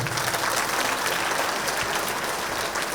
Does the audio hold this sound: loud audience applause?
yes